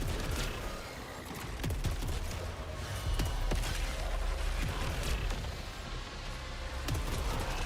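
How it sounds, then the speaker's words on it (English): Rapid, dense gunfire fills the shooter game Saros, with a steady barrage of shots and sharp transient cracks sustained throughout at a loud, constant level and little talk. "Oh, nice shooting."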